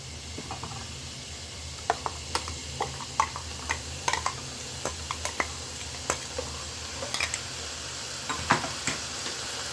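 Mixed vegetables with ground coconut paste sautéing in a pan for avial, a continuous close sizzle broken by sharp scraping and stirring clicks at irregular intervals, with no talk.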